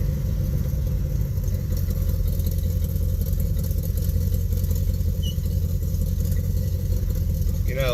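A 1967 Chevrolet Chevelle engine idles nearby with a steady, low rumble that holds without change for the whole stretch.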